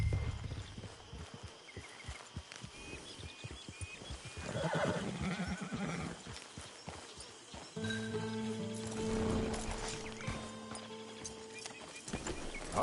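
A horse in a PS4 video game neighs and whinnies loudly over the clip-clop of hooves. A steady game soundscape runs underneath.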